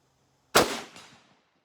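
A single sharp rifle shot from a Yugoslav M.24/47 Mauser firing PPU 8x57 ammunition at a steel target outdoors, a loud crack followed by a short rolling echo and a faint ping afterward.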